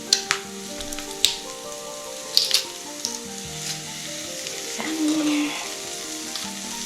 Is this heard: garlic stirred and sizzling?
yes